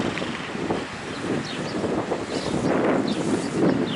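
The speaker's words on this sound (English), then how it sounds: "It's a pretty windy day right now." Wind gusting steadily across the microphone outdoors on a cloudy, white-skied day, a continuous broadband rush with swelling gusts and no talking.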